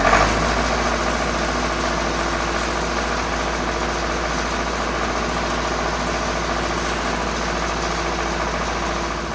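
A Lincoln SA 400 welder engine idling, a steady low mechanical rumble with even vibration that holds constant throughout.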